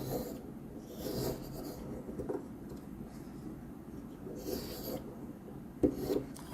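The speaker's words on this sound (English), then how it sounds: "Let me draw the circle." A pen drawing a circle on paper makes soft, faint scratchy strokes in a few short bursts, quiet and close.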